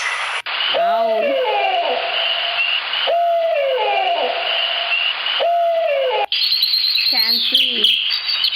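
Owl hooting in repeated calls with strong descending tones about every two to three seconds, set against a steady bright hiss and sharp chirping.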